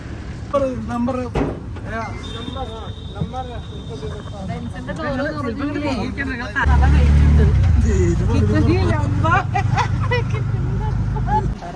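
Auto rickshaw ride in Ayodhya at night, with engine rumble that grows louder and heavier partway through amid traffic noise, under near continuous conversation and a brief horn beep.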